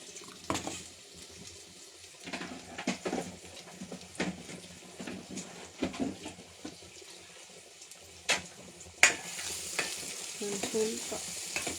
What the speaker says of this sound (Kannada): ಲೈಟಾಗಿ ಸಾಟೆ ಮಾಡ್ಕೊಳ್ಬೇಕು